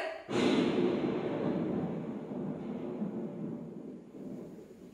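A staged thunder sound effect at a school monologue performance hits with a sudden loud crack, then a long broad rumble rolls on and slowly fades over several seconds.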